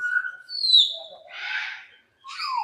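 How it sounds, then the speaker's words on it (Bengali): Birds call in a safari park where parrots and pigeons roam: a few separate whistled chirps and a short squawky burst, sparse and moderately near, with quiet gaps between. "কত সুন্দর পাখি, টিয়ে পাখি, বিভিন্ন ধরনের পাখিগুলো দেখা যাচ্ছে"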